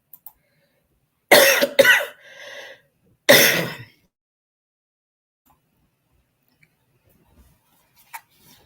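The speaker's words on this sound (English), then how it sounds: "I'm having a coughing attack" A woman coughs in two harsh bursts about two seconds apart, the first doubled with a short rasping tail, then near silence with a couple of faint ticks.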